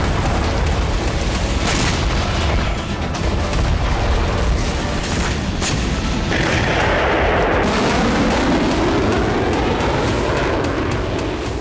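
Russian army bombardment explosions, a dense loud barrage of booms and blasts over a continuous roar, with sharp bursts scattered throughout and a rolling rumble in the second half.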